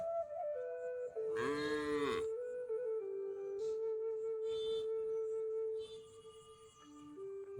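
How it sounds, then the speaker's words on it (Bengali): Cows in an open rural field give long, drawn-out moos, one loud harmonic call early followed by lower sustained lowing, with further fainter calls trailing off. "গরুরা ডাক দিচ্ছে"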